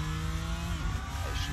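Race car engine in the Assetto Corsa racing game, a steady loud drone held at full throttle with a shifting tone near the end, continuous and alone without voices.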